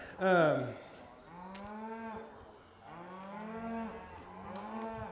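Cattle in a handling pen, cows held with their calves, give several loud, drawn-out moos, one close and strong at the start, then more calls in a rough overlapping run.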